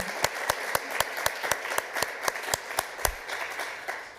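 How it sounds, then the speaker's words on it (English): A conference audience applauds a panel at a session on healthy diets, with steady, rhythmic hand claps that ring out sharply and evenly throughout. "I would like everybody to join me in a huge applause"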